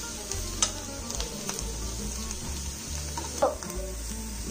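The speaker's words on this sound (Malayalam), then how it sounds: "മഞ്ഞൾപ്പൊടി എന്നിട്ട് മസാലയുടെ പച്ചമണം പോകുന്നതുവരെ നമുക്ക് നന്നായിട്ട് വഴറ്റിയെടുക്കാം." Masala with turmeric powder sautés in a pan for a pepper chicken roast, a close continuous sizzle with spoon stirring and a couple of sharper scrapes.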